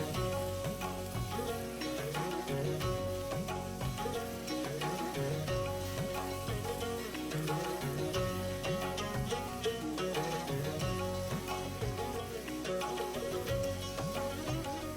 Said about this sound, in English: the purpose here is to continue stirring it and make sure it condenses into a solid mass again